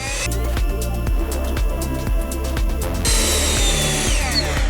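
A Sequoia SBLB4022BT cordless leaf blower runs in turbo mode, a loud continuous motor whine with a steady tonal hum and rhythmic pulsing, rising to a brighter, more forceful rush partway through.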